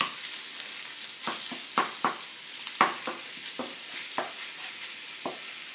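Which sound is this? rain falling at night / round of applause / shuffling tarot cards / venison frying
venison frying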